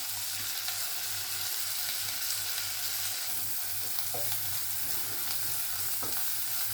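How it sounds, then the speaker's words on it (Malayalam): Chopped onion sautés in a pan for an Indian-style masala macaroni pasta, giving a loud, constant sizzle with faint stirring scrapes throughout. "ഉള്ളി ഒന്ന് വഴട്ടുക."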